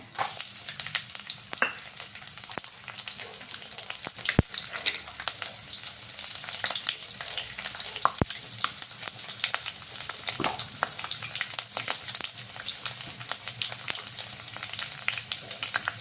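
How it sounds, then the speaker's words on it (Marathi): Cumin, mustard seeds and garlic cloves fry in two spoons of hot oil, a tempering for an ambadi leaf dish. A steady sizzle runs throughout, dotted with sharp popping crackles from the seeds. "आता इथे तेल टाकलेलं आहे 2 चम्मच. मध्ये जिरं राई टाकायचं, लसूण कळ्या"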